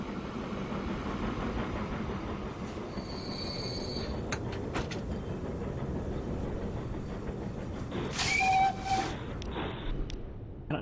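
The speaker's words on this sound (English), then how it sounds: "there is a train now coming in" A train rolls into a station in the Transport Fever 2 game, a steady low rumble of wheels and engine with brief whistle tones and a sharp wheel squeal near the end as it slows.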